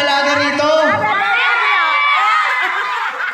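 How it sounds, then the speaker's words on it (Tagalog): A crowd of townspeople cheers and shouts at the arrival of a congressman, with overlapping excited voices and whoops filling the space alongside nearby chatter. "lintik ng palakpakan at hiyawan ng mga kababayan"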